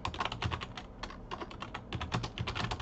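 Rapid typing on a computer keyboard while filling in a form field, a steady run of close, crisp key clicks with brief pauses between bursts, heard alone.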